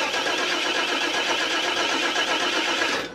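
A 1995 Chevrolet van that won't start is cranked by its starter, making a loud, continuous rhythmic churning for about three seconds before it cuts off abruptly, with no catch or firing.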